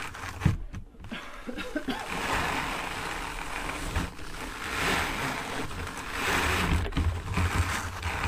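A hand-cranked drum carder blends fibre with a little sparkle into an art batt, giving a continuous rough whirring and brushing rumble with faint mechanical clicks that runs steadily for several seconds after a few brief knocks at the start.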